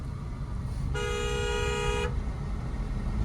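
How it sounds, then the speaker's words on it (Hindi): A single sustained car horn blast lasts about a second, loud and close inside a moving car, over a steady engine and road rumble at a blind turn. "बहुत ज्यादा हॉर्न मत बजाया करो भाई, ये गाली होती है"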